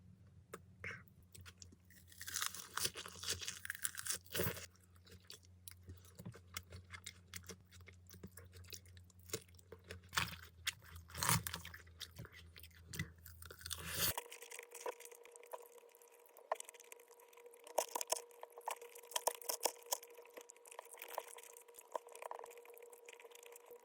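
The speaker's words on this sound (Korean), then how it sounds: "이거는 연어 샐러드 잘 먹겠습니다" Someone eats a salmon salad dressed with vinegar and black pepper, with close, irregular chewing and soft crunching bites that continue throughout and no talk.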